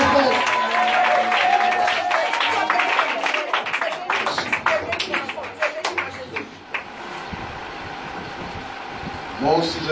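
Church congregation at a spiritual retreat applauding and cheering loudly, dense clapping across the first several seconds that thins and fades, with a preacher's voice over it.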